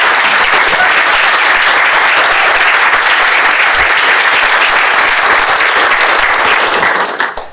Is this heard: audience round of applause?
yes